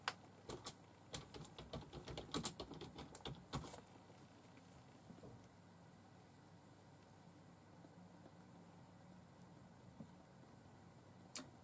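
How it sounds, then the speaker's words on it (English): Quick bursts of keyboard typing sound up close for about four seconds, then stop. A quiet steady room hum remains. "I'm typing."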